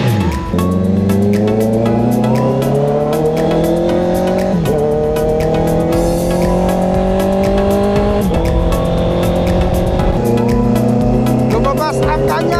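A Honda CB650R inline-four motorcycle fitted with a new aftermarket exhaust revs loudly and close, rising in several sweeping pulls with brief drops between them.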